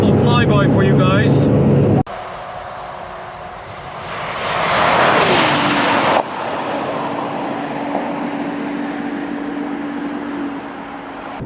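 A Ferrari drives past on the Autobahn in the evening: a rushing roar swells and peaks, then cuts off abruptly, leaving a steady engine hum with a falling whine. A voice is heard briefly at the start.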